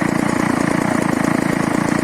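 A Peugeot 103 SPA moped engine runs steadily at close range, a loud, rapid, even two-stroke pulse with a trembling, buzzing vibration and no speech.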